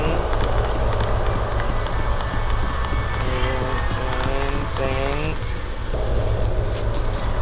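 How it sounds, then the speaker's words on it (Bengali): A train passes in the horror game Death Park, a continuous loud rumbling roar with brief wavering horn-like tones near the middle, a voice talking over it throughout. "ট্রেন"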